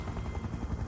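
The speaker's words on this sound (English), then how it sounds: "it's a helicopter." Helicopter in the VR shooter game Serious Sam VR, a dense rapid rotor thumping that is close and steady throughout the short burst.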